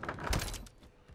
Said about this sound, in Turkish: İkinci yolu etkileşim tuşu ile kapıyı açmak. Bu yine ses çıkartır